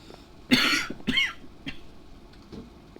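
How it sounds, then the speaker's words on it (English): A person coughs sharply twice in quick succession, close by, followed by a softer throat-clearing sound and a faint final cough. "I apologise for the coughing."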